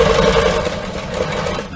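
A sewing machine runs in a steady, close mechanical hum while back stitching the seam of a fabric beach pillow.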